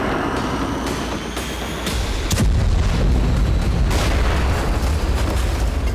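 A Nag MK2 anti-tank missile test-fired at the Pokhran field range: a loud, continuous roaring rush that swells partway through into a heavier rumble, sustained and with no talk.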